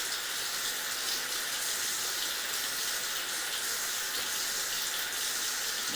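Water flows steadily through an 80-foot residential drain line at a house in Deer Park, Ohio, making a constant rushing hiss that carries on loud and unbroken with no talking.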